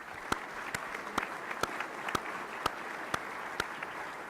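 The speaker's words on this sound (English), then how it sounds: "Will you all please join me in a round of applause for our sponsors?" Audience applause for sponsors at a summit, a steady bed of clapping with a few sharp, louder claps standing out at regular intervals, moderately distant.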